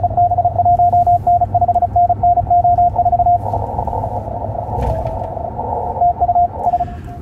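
A high-speed Morse code CW contest station calls CQ in rapid, evenly keyed beeps of a single pitched tone, close and loud over radio static and hiss, with a burst of crowded interference and noise partway through.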